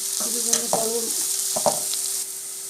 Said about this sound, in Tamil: கருவேப்பிலாம் போட்டு வெங்காயம்லாம் போட்டாச்சு இப்போ நல்லா வதங்க விட்டுடலாம் வெங்காயம்